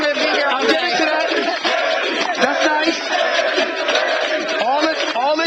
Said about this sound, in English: All this cheering